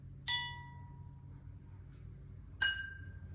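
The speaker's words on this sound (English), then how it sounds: "does the amount of water change the sound when tapping on the glass?" A glass partly filled with water is tapped twice, each strike a bright, ringing clink that decays slowly over a quiet background, the second tone higher than the first.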